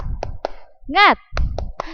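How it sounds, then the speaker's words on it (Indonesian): Children in a second-grade class do the rhythmic spirit clap, sharp grouped claps in a patterned beat with a voice shouting in the middle, close and clear. "Coba tepuk semangat."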